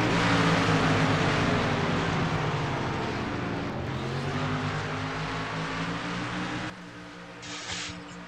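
Race cars roar around Phoenix Raceway in a video game Piston Cup 500, a loud, steady multi-car engine drone that eases slightly toward the end and dips briefly after a change in scene.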